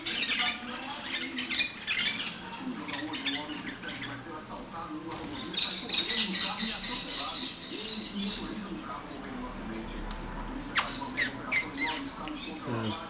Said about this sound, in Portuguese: A quantidade de periquito ali.